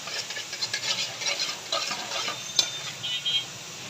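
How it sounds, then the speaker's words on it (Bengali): A spice paste of garlic, coriander, turmeric, chili and cumin being stirred and mixed in a bowl, with quick irregular scraping and light clinking strokes, close and clear. "সামান্য একটু জিরা গুঁড়া দিয়ে মশলাটা আমি ভালো করে মিক্স করে নিব।"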